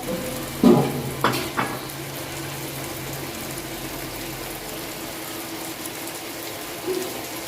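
A pan of curry bubbles and sizzles softly and steadily, with a couple of light utensil clinks near the start.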